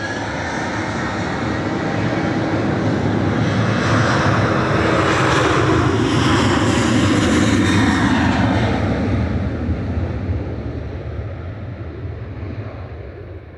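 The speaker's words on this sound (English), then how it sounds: "Sun Express heading off to Antalya with flight" A SunExpress jet departs Manchester Airport for Antalya, its engines making a loud, broad roar that builds and holds before slowly fading as it climbs away, with some wind noise on the microphone.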